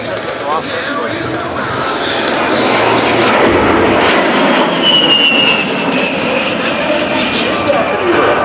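An A-10 Warthog jet performs at the 2018 Abbotsford Airshow, its engines producing a loud, sustained whine and roar that swells midway through, with a voice talking over it.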